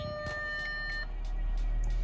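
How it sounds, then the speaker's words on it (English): A steady electronic warning tone from a car sounds for about a second, then cuts off, leaving low rumbling background noise; nobody speaks. "It's gonna turn off this annoying beep."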